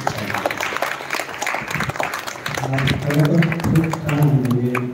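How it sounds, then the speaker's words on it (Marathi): An audience at a Dhamma discussion gathering claps together, a dense patter of applause mixed with a voice speaking loudly over it through the second half. "पुनश्च एकदा आपण सर्वांनी जोरदार टाळ्या"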